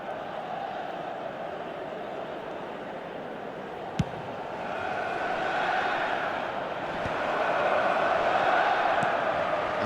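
Video game football crowd cheering during a match, a broad steady roar that swells louder in the second half, with one sharp brief knock near the middle.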